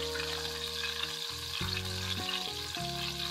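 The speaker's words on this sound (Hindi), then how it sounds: "इनको फ्राई करते हुए 6 मिनट हो गए हैं।" Chapli kebabs sizzle and fry in a pan with a steady, loud crackle and shifting tonal hiss, with no speech.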